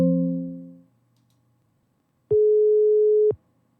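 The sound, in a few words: telephone line signal after dialing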